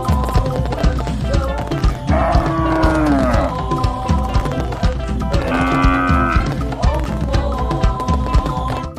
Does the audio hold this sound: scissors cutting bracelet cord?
no